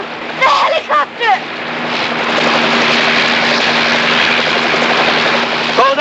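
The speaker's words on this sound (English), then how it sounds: "The helicopter!" A loud, steady helicopter roar fills the air, with brief shouted voices at the start and near the end.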